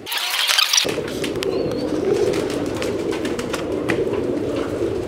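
Pigeons at a Lahore loft coo continuously in low, throaty calls over a faint motor hum, after a brief bright noise at the very start.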